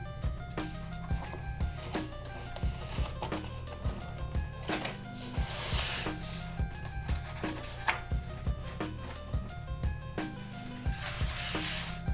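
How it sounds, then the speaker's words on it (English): A giant homemade Toblerone being trimmed by hand, with repeated short rasping and scraping strokes in an uneven rhythm, close and moderately loud, over a faint low hum. "I might trim it a tiny bit more, just for insurance."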